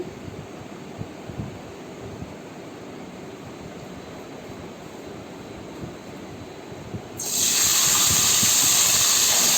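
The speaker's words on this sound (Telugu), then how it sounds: "నూనెలో వేయించుకోవాలి, నూనెలో వేసేసి వేయించుకుంటాను." Nalleru (veldt grape) stems frying in oil: a steady, soft hiss that suddenly swells into a loud, bright sizzle for the last couple of seconds, close by with no talking.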